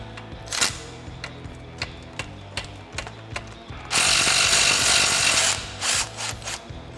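A ratchet with a 10mm socket backs a bolt out on a Jeep Wrangler TJ, quick clicking pawl strokes in bursts close up, with a longer buzzing run of spinning midway and a few more clicks after.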